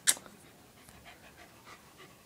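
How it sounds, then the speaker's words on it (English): A dog pants softly indoors with faint whimpers, after a brief sharp sound at the start; close and quiet, with no talking. "I want to do a video of my dog."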